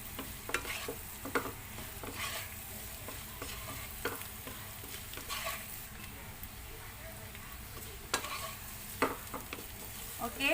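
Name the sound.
potatoes pan frying in butter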